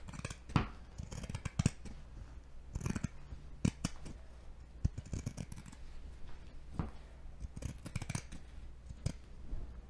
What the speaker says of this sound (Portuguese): Agora, nós vamos recortar essas partes com uma margenzinha pequena, nós vamos recortar com a tesoura de picotar.